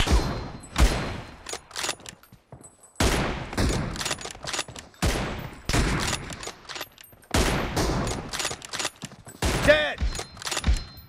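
Dense video-game gunfire from BGMI: rapid automatic bursts and shots crackle in several loud volleys with brief gaps between them, and a voice is heard faintly beneath the shooting.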